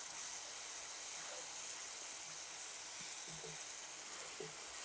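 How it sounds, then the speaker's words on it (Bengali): Turmeric, chili and coriander spice paste sizzles steadily as it is sautéed for a large-fish curry, a dense continuous hiss broken by soft scattered stirring clicks. "দেখেন এটা যে কষাচ্ছি মশলাটা কেমন ঘন ঘন।"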